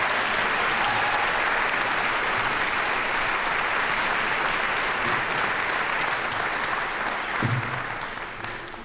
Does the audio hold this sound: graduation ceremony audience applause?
yes